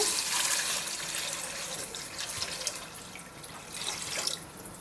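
Water pours steadily into a rice pot for bagara rice, a bright splashing rush that softens and swells over a few seconds.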